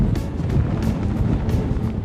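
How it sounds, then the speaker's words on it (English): Strong wind gusts buffet the microphone on lava fields beside the ocean on Hawaii's Big Island, a steady low roar with rushing surges throughout and no talk. "it's really windy"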